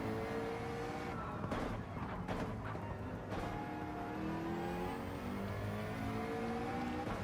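A race car accelerating along the back straight at Trial Mountain in Gran Turismo 7, a steady, rising engine drone with harmonic whine through the whole stretch, moderately close, with brief gear or tyre noises early on and no talking.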